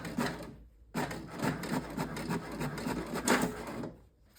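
An inkjet printer printing a sketch, giving a close run of rhythmic mechanical whirring and rubbing strokes with two brief pauses, alone without talk.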